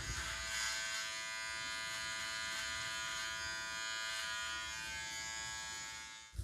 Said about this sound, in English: a nice edged and lined beard using your Wahl trimmer